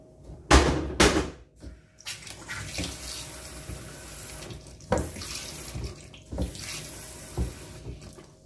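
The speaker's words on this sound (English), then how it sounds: "Turn the water back on." A Moen kitchen faucet, fitted with a new 1224B cartridge after a drip repair, is turned back on: sharp knocks of the handle and a gush, then a steady hiss of running water into the sink with occasional clunks.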